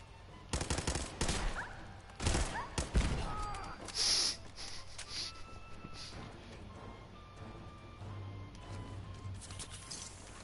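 Gunfire in the video game Fallout 4, several sharp bursts and shots clustered in the first few seconds, then quieter game ambience with softer rumbles.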